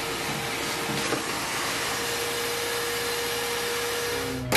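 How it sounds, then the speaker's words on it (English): A vacuum cleaner runs steadily while cleaning out a device housing, a continuous close whirring hiss with a faint tonal whine that holds throughout, a short bump at the end. "Quick vacuum."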